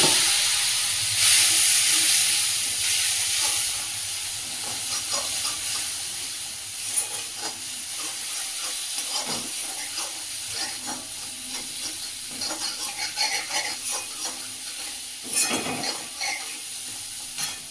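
Spice paste frying in a pan gives off a hissing, steamy sizzle, with a few scattered scrapes and clinks of a utensil against the pan, moderately close and with no talking.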